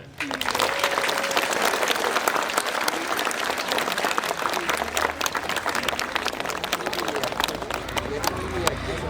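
Loud applause from a crowd at a school's last-bell ceremony for graduates at Staryi Sambir School No. 2: sustained, energetic clapping for nine seconds, with crowd voices and babble mixed in.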